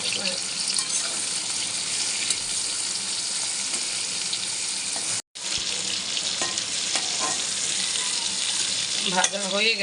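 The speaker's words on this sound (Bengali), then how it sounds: "ইলিশ মাছের মাথা দিয়ে কচু হবে, গাটি কচু। মুড়োটা ভেজে নেব।" Hilsa fish head frying in hot oil in a kitchen pan, a loud, steady sizzle that runs without a break apart from one short gap near the middle, with faint clatter near the end.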